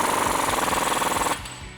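An impact wrench with a 36mm socket hammers rapidly while tightening a front axle nut on a 2007-2015 Chevrolet Silverado 1500, a loud continuous rattling burst that stops abruptly, leaving a brief quiet tail.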